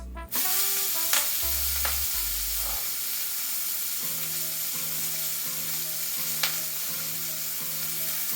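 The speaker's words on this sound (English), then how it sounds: "I'm going to take all this char and I'm just going to toss it in the pan" Charred beans land in a hot pan and break into loud, steady frying sizzle, with a few scraping stirs and clinks of the pan rising over the constant crackle.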